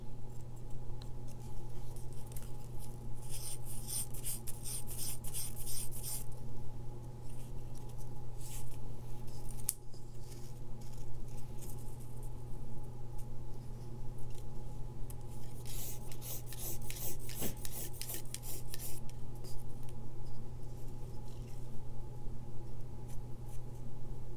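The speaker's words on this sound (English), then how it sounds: "So I'm just going to rub a bit more here" Paper strip being rubbed to shape a curved on-edge uppercase letter Q in quilling, giving steady close scratchy friction strokes over a constant low hum, with denser bursts of rubbing in places.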